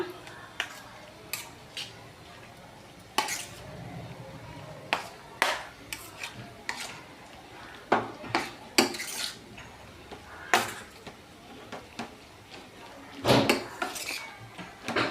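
Two ingredients for a cluster bean and moong dal patodi curry are stirred together in a bowl, giving irregular close utensil scrapes and clinks with a few sharper knocks against the bowl.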